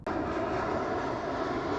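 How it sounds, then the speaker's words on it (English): Propeller airplane droning loudly overhead, a steady uninterrupted engine roar that holds without fading, with no voices. "Plane!"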